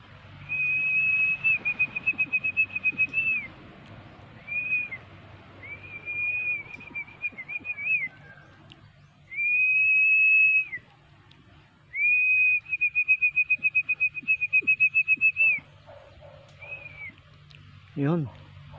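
Someone whistles a series of high, sustained phrases with fluttering pulses and brief pauses between them, close by, ending with a quick rising squeak.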